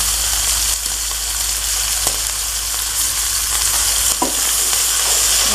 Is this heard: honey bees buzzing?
no